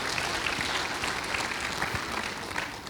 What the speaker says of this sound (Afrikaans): Kom ons sê hulle net hande klap.